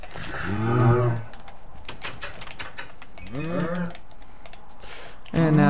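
Cows mooing in Minecraft, the blocky video game, as the player gathers wheat to breed them: three drawn-out moos spaced a few seconds apart, with clicky keyboard typing running underneath.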